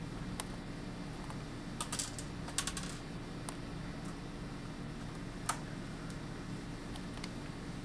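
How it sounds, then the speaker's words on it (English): Small screws on a laptop's hard drive casing are worked loose with a screwdriver, giving sparse faint clicks and ticks, a short cluster near the start and a few isolated taps later, over quiet room noise. "Start to unscrew the casing for the hard drive."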